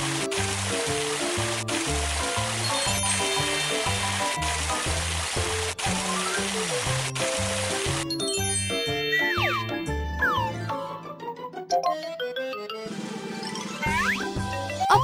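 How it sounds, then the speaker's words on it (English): Splashy water-rinse effects with boings and tinkling chimes as a tooth is washed with water in the Cocobi dentist cartoon game, laid over bright, steady game music that shifts partway through. "Wash it away with water."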